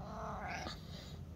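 A pet cat makes a drawn-out meow with a rising, strained cry over steady background noise, fairly faint and heard alone with no speech.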